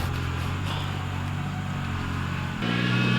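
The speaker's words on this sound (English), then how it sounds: "You could probably hear the tractor going." A tractor engine drones steadily in the background at a homestead near a new goat barn, a continuous low rumble that shifts and grows slightly louder near the end.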